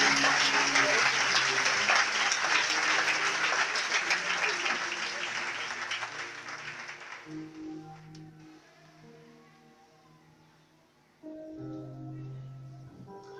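A church congregation applauds and cheers loudly together, the clapping dense at first and then fading out, with a voice and sustained tones rising beneath as the ovation dies away.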